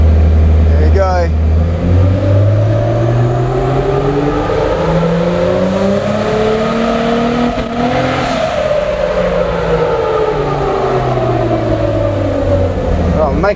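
A 400 hp RB30DET-engined Nissan Patrol runs hard on a dyno, roaring loud and close as its revs climb and fall in long sweeping pulls, the pitch rising steadily through each run.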